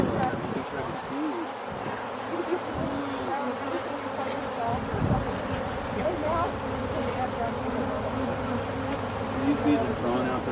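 A dense, steady buzz of many honeybees swarming close around a hive, continuous throughout, with faint voices murmuring underneath.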